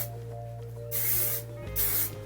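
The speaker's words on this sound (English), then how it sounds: "Then I'm going to go in with that Suave hairspray." Suave hairspray sprayed onto hair in two short hissing bursts, close up, over a steady low background hum.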